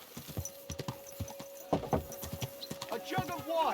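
Horse hooves clip-clop at a steady walking rhythm in the medieval video game Kingdom Come: Deliverance II, with clear repeated close hoofbeats, game speech over them and a horse snort or whinny near the end.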